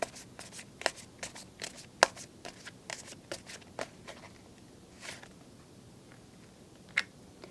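Tarot cards shuffled and drawn by hand, a run of crisp papery flicks and riffles with several sharper snaps, close and clear against a quiet background.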